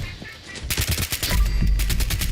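Rapid gunfire in Fallout 76 aimed at small rodents, a dense burst of loud cracking shots that starts after a quiet moment and keeps rattling in quick succession to the end.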